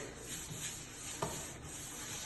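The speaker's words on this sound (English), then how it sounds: "we're using a screen 220 grit. Just give it a sanding." Soft, steady rubbing of 220-grit sandpaper by hand across a flat door surface, a quiet continuous rasp with a few slightly firmer strokes.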